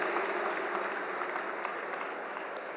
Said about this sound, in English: Ladies and gentlemen, a huge round of applause.